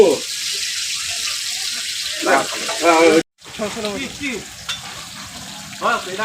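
Hilsa fish and eggplant fry in hot oil, a steady close sizzle with stirring clatter and splashes of water, while voices talk over the cooking throughout.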